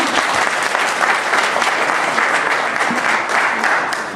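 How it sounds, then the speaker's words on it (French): Loud, full applause from a conference audience at a Belgian-Congolese gathering, a thick sustained wash of clapping hands that holds steady throughout with only a slight easing at the close. "Je peux l'applaudir."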